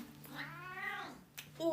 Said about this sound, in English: Do you guys hear my cat meowing?